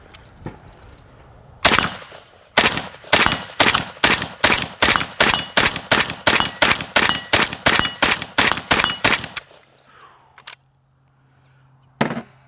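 AK rifle with a slab-side 20-round magazine firing Polish GROM ammunition, about twenty loud, sharp shots in a steady rapid string of individual rounds, then a pause and one last distant crack.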